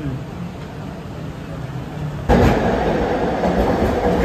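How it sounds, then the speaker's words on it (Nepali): A train arriving at a station rumbles in and grows sharply louder partway through, a steady heavy roar of wheels and carriages close by, with a murmur of people beneath. "हाम्रो ट्रेन आइसक्यो है"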